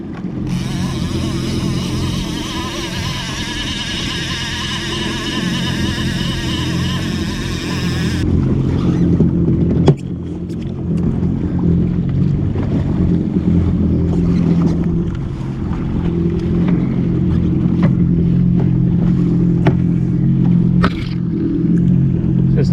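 A motorboat passes close to a jet ski while fishing on open water, a loud, continuous engine and hull rumble mixed with wind buffeting the microphone, swelling and easing over about twenty seconds.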